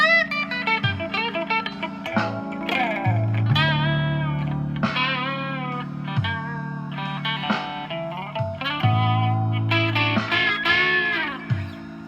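A distorted electric guitar, a replica Gibson with hand-wound pickups, on the neck pickup at full volume, plays loud, thick chords and sustained notes, ringing out with heavy gain and a warm, full tone.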